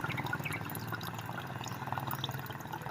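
Water trickles and drips from the engine of a Hyundai Accent CRDi that is overheating, a soft, steady, close pour with no talk over it.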